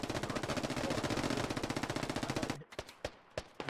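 Rapid automatic gunfire from the SquadOps video game, a loud continuous burst of closely spaced shots for about two and a half seconds, then several separate single shots with short gaps.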